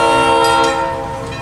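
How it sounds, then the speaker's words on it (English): A loud, sustained locomotive air horn on an engine shoving a train blares steadily and close by, holding its chord before easing slightly toward the end. "Why is the engine honking when it's shoving?"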